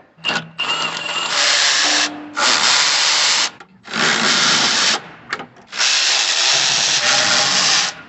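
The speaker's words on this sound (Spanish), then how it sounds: "ahorita voy a quitar todos los tornillos dieces" An impact or power tool removes 10 mm bolts from the engine of a 2010 Chevy Tahoe during a passenger-side motor mount replacement. Four loud, sustained bursts of whirring and rattling are separated by short pauses, with no talk.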